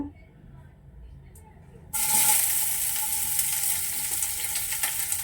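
Onions hit a hot pan and burst into a loud, steady sizzle about two seconds in, following a quieter stretch, with the frying continuing strongly to the end.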